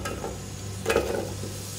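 Three medium sliced onions fry in half a cup of oil, with a continuous soft sizzle and a brief louder stir-and-crackle burst partway through.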